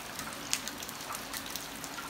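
Rain falls in front of a house in the Vietnamese highlands: a steady, dense hiss of drops with occasional louder individual splashes, even and continuous, no talk.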